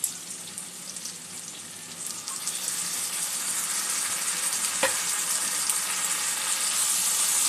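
Ground turmeric, chilli, coriander and cumin with ginger-garlic paste frying in a pan for a fish egg curry, a bright hissing sizzle that builds and then holds steady, with one sharp tap midway and no talk.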